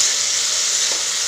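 Potato pieces frying in oil in a home kitchen pan, a loud, close, unbroken hissing sizzle that holds steady for the whole brief moment, with no voices.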